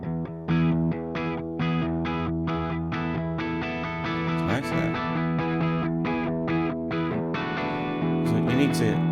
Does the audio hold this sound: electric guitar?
yes